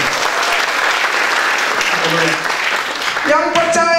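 Broad, sustained congregational applause during a Sunday church worship service at GPI Majalengka fills the whole stretch, with a sung or voiced tone emerging near the end.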